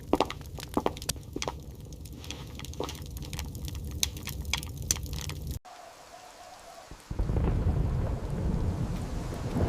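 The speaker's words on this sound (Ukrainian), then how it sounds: "коли дощ, мов удари батога, бив у вікна, а блискавки занурювали нічне небо над Рейном у примарне світло" Night thunderstorm with rain beating on windows: sharp cracks and crackling thunder over pattering rain, a brief lull, then a heavier, louder rush of rain.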